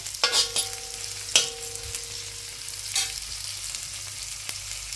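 Garlic and onions sauté in a pan for pancit, a steady low sizzle with a few sharp scrapes and clanks of a utensil stirring against the pan, no voices.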